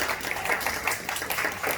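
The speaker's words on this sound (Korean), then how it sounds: "자, 박수." A group of children at a church Sunday school claps in steady, fairly fast applause, a little distant and moderately quiet, with no talk over it.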